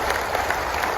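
A full audience round of applause aboard the cruise ship Carnival Magic at a military appreciation gathering, dense steady clapping filling the whole moment from a large crowd.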